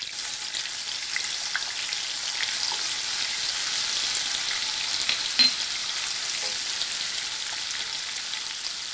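Ginger garlic paste sautés in melted butter, giving a steady, even sizzle throughout with one brief clink midway, moderately quiet and close.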